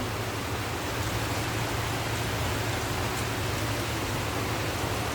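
Heavy afternoon rain drums on a tin roof in a constant, loud, unbroken roar that stays steady from start to finish.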